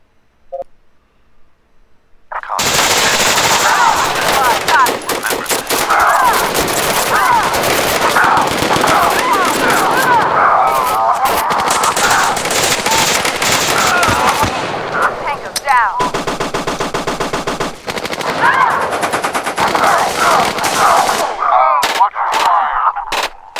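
Sustained bursts of automatic gunfire from the video game Black Bag rattle almost continuously at close range, with a brief change in texture midway and a few sharp final shots.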